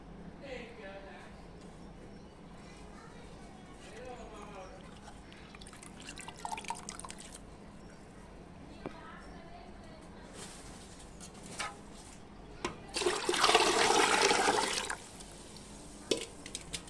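Water splashes and pours in a short burst as liquid fertilizer water is mixed for rose plants, with scattered drips before and after, while a voice talks nearby.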